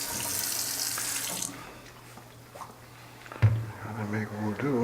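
Water running from a tap in a steady hissing stream for about a second and a half, then shutting off, followed by quieter sounds and a person talking close by.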